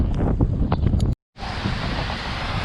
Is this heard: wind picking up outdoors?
yes